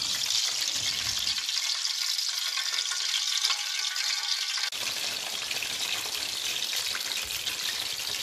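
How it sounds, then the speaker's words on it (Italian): Stuffed eggplants fry in hot oil with a steady, bright crackling sizzle that continues throughout, dipping briefly partway through before returning at full strength, with no talking over it. "Io sto continuando a friggere"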